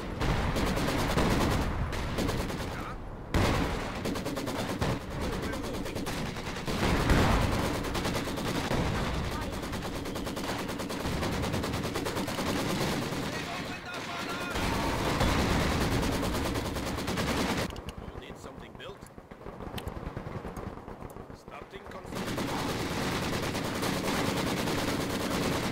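An artillery barrage and heavy gunfire fill a Company of Heroes 2 custom match, with dense continuous bursts of shots and blasts, loud and close, plus brief dips, and talk partly buried beneath the combat.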